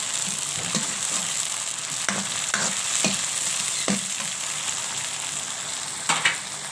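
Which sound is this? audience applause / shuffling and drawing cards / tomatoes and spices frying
tomatoes and spices frying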